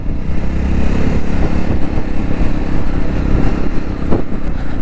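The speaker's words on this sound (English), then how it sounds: "Such a fun bike to ride" A 2024 Jawa 350 motorcycle being ridden, its engine a loud, continuous throbbing drone close by, with steady wind rush and no speech.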